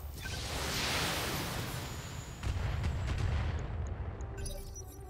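Mech weapons firing in BattleTech, a turn-based tactical combat video game, as a heavy rumbling barrage of blasts and explosions, sustained and loud, ending in faint crackling sparks.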